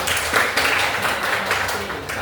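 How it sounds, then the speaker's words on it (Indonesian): Students in an Islamic religious studies class at a vocational school clap together, producing a dense, steady wash of applause at close range with no pauses for the full stretch. "Tepuk tangan dong."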